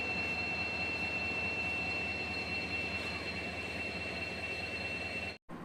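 The Guruvayur Express pulls out of Tenkasi station, heard from on board as a steady, loud rumble of wheels and carriage noise with a faint high whine running throughout.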